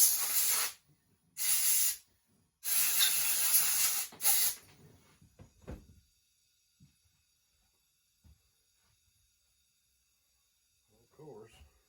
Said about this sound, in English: You blow it off with a compressor and you lose it.